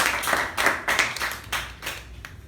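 A small group claps at a club meeting, with bursts of hand claps rising and falling in uneven pulses rather than one continuous roar, close and fairly loud.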